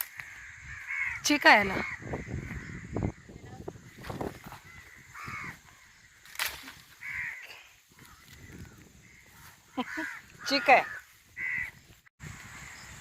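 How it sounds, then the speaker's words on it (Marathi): A group of crows caws repeatedly outdoors near mango trees, in loud, close bursts scattered across the stretch, while a person talks briefly between the calls. "कावळ्यांची शाळा"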